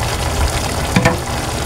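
Beef caldereta with beef cubes and queso de bola bubbling in a pot, a steady close sizzling simmer with a brief stir or bubble burst midway.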